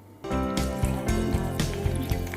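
Oil pours into a container with a bubbling, glugging fill that starts abruptly and keeps going, its pitch rising as the level climbs.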